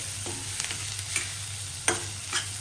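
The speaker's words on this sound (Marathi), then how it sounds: "आता हे सगळं घालून आपल्याला थोडा वेळ हे परतायचं आहे. मसाला नीट भाजला गेला पाहिजे." Onion, garlic and masala sautéed in a pan for a Kolhapuri-style sandge rassa curry: a soft, steady sizzle with a few light scraping stirs and clinks, close and fairly quiet.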